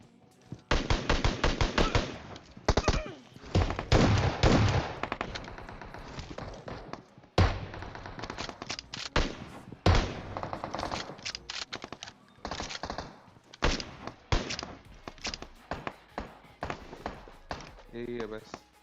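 Shotgun blasts and other gunfire in the PUBG video game come as sharp, loud bursts and clusters of shots separated by brief gaps. Someone talks over much of the gameplay.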